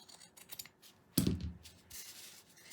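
A single pair of scissors snips crochet yarn for a gnome's hat, one short close cut standing out over faint handling noise and brief rustles.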